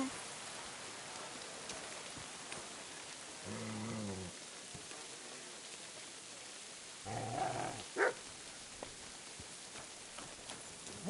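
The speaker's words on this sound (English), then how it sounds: "What's with that barking?" A dog barks in Kingdom Come Deliverance 2, two short bursts a few seconds apart, moderately close, over a steady hiss of rain-like ambience.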